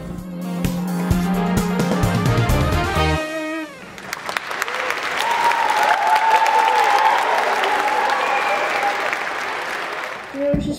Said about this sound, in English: If so, give him a round of applause.